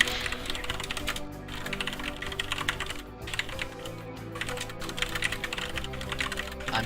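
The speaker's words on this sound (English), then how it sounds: "Oh, this is a lot of typing." Rapid typing on a computer keyboard comes through as steady, dense key clicks with brief pauses, close and fairly loud, with no talk.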